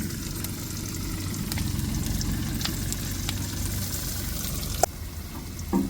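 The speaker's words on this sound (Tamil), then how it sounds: "வெங்காயம் நல்லா வதங்கட்டும்." Onions sauté in a pan with a pinch of salt for a dried masi fish thokku, a low steady sizzle and hiss with a few sharp utensil taps near the end, no talking.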